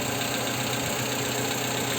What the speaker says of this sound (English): the engine seems to be running fine now